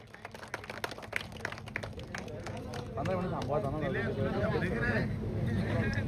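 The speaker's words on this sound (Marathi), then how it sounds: "हा यंगस्टार साठी जोरदार टाळ्या." A crowd applauds a young player at a Sonale Premier League cricket tournament prize ceremony, with scattered claps swelling into steady applause under loud talk from a nearby announcer.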